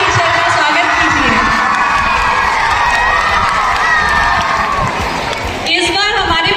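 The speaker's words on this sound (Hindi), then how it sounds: "जोरदार तालियों से हमारे टीचर का स्वागत कीजिए।" Loud cheering and applause from a crowd with many children's voices at a school felicitation ceremony, welcoming a teacher onto the stage; a continuous roar of shouts close by, with a sudden burst of higher cheering near the end.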